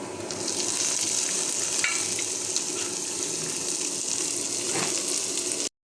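Hot oil with five-spice, garlic, chopped onion and green chilli sizzles steadily in a pan as bitter gourd goes in, a constant bright frying hiss with faint stirring clinks, ending abruptly.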